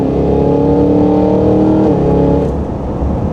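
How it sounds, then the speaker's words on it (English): A 2023 Cadillac Escalade-V engine roaring loud and close as it is aggressively downshifted, a sustained deep rumble that rises then settles, alone without voices. "aggressively downshifting car."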